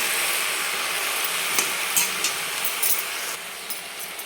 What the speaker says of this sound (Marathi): थोडंसं आपल्याला दोन मिनिट असंच परतून घ्यायचे